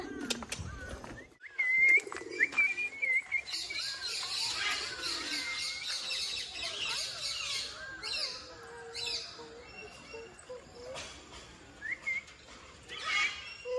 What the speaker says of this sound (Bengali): সব পায়রা পায়রা